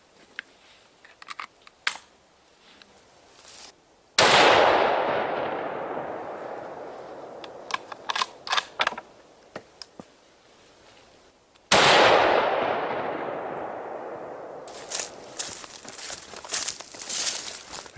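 Two loud rifle shots from a Savage Axis chambered in .30-06, fired outdoors at about 100 yards, each one a sharp crack with a long booming decay. Scattered clicks and small handling noises come between the shots.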